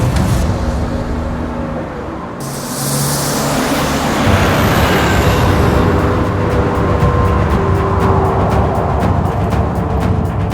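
A car engine runs loud and close as the vehicle is driven, a continuous rumble with road noise that shifts in tone partway through, with no voices over it.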